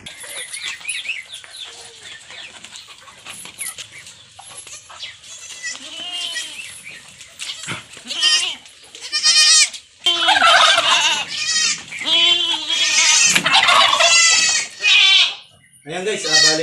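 A four-day-old goat kid bleats while being caught, with scattered cries at first that grow into loud, repeated, close-up bleats in the second half, and someone talking between them.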